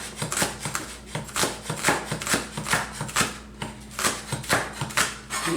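Onion being chopped with a big cleaver on a board, rapid uneven knocks and scraping strokes repeating steadily, close and crisp with no talk.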